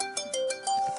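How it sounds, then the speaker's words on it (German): A telephone rings in a sustained electronic tone with a few pitch steps and gaps, fairly loud and close, with no talking. "Oh, der Telefon klingelt."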